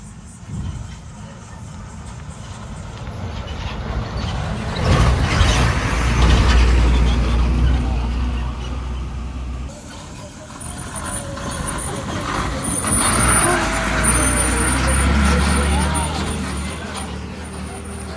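A heavy bus rumbles past on the road, its engine swelling and fading twice, with faint talk and traffic noise around.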